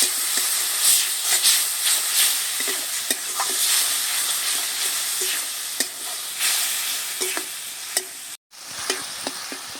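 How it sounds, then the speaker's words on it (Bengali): Ground thankuni leaf paste is stirred with spices in a hot pan, making a loud, continuous sizzle and hiss, with repeated scraping strokes of the spoon and a brief dropout near the end. "এবারে বাটা থানকুনি পাতাটা দিয়ে দিচ্ছি। থানকুনি পাতাটা দিয়ে বেশ সুন্দরভাবে থানকুনি পাতার সাথে মশলা মিশিয়ে নিচ্ছি।"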